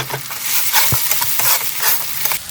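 Ground tomato hits hot frying spices in a pan for a home-style palak paneer, giving a loud, steady sizzle with scraping stirs and a sharp clatter near the middle.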